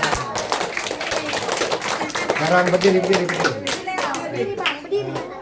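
Children clap their hands together at a Sunday school prayer gathering in a family home, a busy burst of clapping mixed with kids' chatter and an adult voice talking over it.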